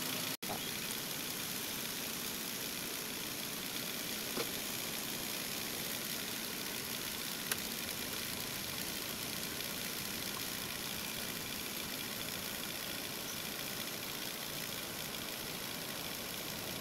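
A Toyota Avanza 1.5 engine idles with a steady, even hum for a long stretch, broken only by a couple of faint clicks.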